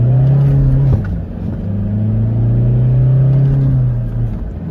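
A 2024 Toyota Fortuner with a manual gearbox accelerates hard in a 0-100 run, the engine note climbing, dipping briefly at a gear change near the first second, then rising again loud and close.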